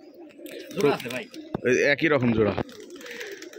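Domestic pigeons coo repeatedly inside a pigeon loft on a farm in Rajshahi, rolling calls close by, while someone talks briefly over them.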